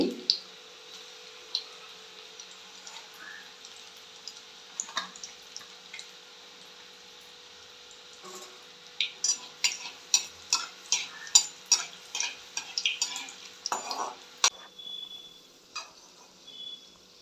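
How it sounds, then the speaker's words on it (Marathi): Spinach bhaji fritters frying in oil with a quiet bubbling hiss, joined midway by a quick run of sharp ticking scrapes and taps from a utensil, then settling again. "चार चारच भाजून घेते मी"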